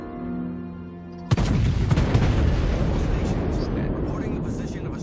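A salvo from the main guns of the German battleship Scharnhorst in World of Warships: one sudden, heavy blast followed by a long, rumbling roar that slowly fades, after a quieter lead-in with someone talking.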